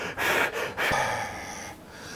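A person imitates heavy, nervous breathing, with a few quick, loud huffs followed by a longer, shaky exhale, close up.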